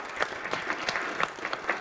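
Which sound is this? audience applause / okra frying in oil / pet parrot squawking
audience applause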